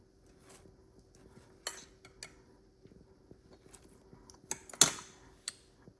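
Hot pot marinade with green onion, cilantro and garlic being mixed in a bowl, quiet scattered clinks and taps of a utensil against the dish, with one sharper knock near the end.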